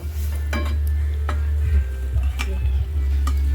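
Pieces of atta dhoka, boiled wheat-flour dumplings, drop into a simmering vegetarian gravy with soft gentle plops and spoon clinks against the pan over a steady low bubbling hum.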